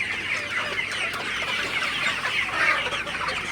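Sonali chickens on a poultry farm cluck in a dense, continuous chorus, many birds overlapping at close range with no pauses and no one talking.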